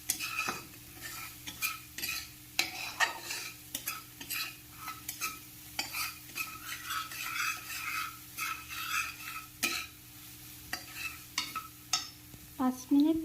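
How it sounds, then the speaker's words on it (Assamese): Ground spices for a mowa fish curry fry in a pan, with repeated stirring scrapes and clinks of a spoon against metal over a faint, steady sizzle, close and moderately quiet. "সকলোখিনি ভালকৈ ভাজি ল'ব।"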